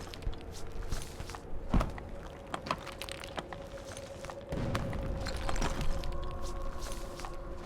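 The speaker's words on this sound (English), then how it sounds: "If I hear those footsteps." Footsteps in the war survival video game This War of Mine, a series of soft, irregular thuds and taps over a low ambient hum, with a heavier rumble setting in near the end.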